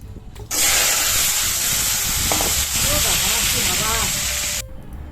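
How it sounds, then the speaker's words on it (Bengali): Bay leaf, dried red chilli and cumin hit hot tempering oil with a sudden loud, steady sizzle that holds for several seconds before cutting off, with faint tonal sounds in the background. "ফোড়নে দিয়ে দিলাম তেজপাতা শুকনো লঙ্কা আর জিরে"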